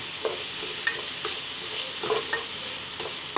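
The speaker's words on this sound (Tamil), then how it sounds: "நல்லா கலந்து கொடுத்துடலாம்." Masala being stirred into sautéed vegetables in a hot pan for Madurai-style tomato rice, a continuous sizzle with a spoon clinking and scraping the pan at close range.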